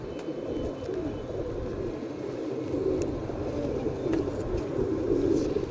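Two freshly caught pigeons in a rural Punjabi setting, with soft low cooing and bird sounds over a steady background rumble of traffic or distant aircraft, no talk.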